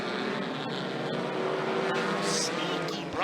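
Hornet class race trucks roar around the oval at Skagit Speedway, a dense, steady engine drone from the pack that swells slightly as the field takes the green flag, with an announcer talking over the racing.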